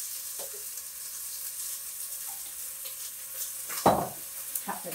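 Chicken browning in a pan for a Sri Lankan curry gives a soft, steady sizzle, close and fairly quiet, with a couple of brief stirring scrapes toward the end and no talking.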